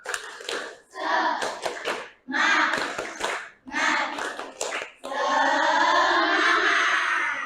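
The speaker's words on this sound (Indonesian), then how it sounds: "Coba bersama-sama, tepuk semangat." An Indonesian classroom of children performs a rhythmic spirit clap, bursts of patterned hand clapping broken by short pauses, ending in a sustained loud run of clapping, with a teacher's voice and children's voices mixed in.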